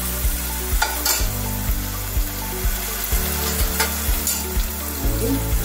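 Curry leaves spit and crackle in hot oil while a fish curry cooks. The sizzle is loud and steady, and a spoon scrapes and stirs the pan in a regular rhythm.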